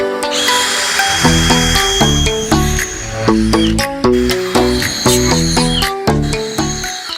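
A drill bores holes into a router jig at slow speed, with repeated short bursts of whining and grinding, each stopping and starting in a steady rhythm, loud and close.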